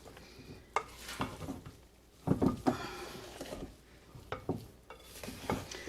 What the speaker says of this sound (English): They might get chopped just for me trying to stir them in here